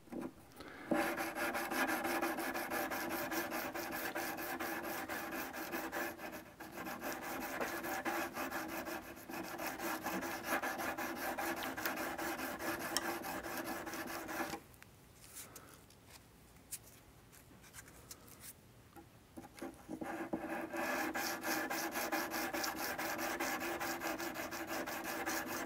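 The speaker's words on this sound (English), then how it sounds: "See, it makes good use of the sandpaper." Sandpaper rubbing across archtop guitar frets in a continuous, even rasping stroke, close and steady, with a brief quieter pause before the sanding resumes.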